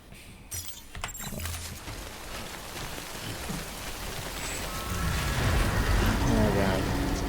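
Steady rain from the video game Death Stranding hisses across the scene, growing louder and denser toward the end, with a voice briefly audible over it.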